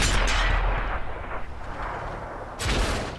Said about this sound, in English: a nice blind shot from the E50M there